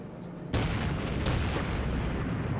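Ship guns in World of Warships fire on a Pensacola cruiser with a sudden heavy boom, a second blast shortly after, and a sustained rumbling roar between them.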